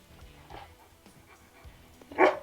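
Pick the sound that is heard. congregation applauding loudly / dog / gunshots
dog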